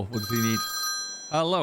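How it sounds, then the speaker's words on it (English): A mobile phone rings in a sustained electronic trill, then someone speaks briefly over and after it on a British farm. "Oh, and that's my phone ringing."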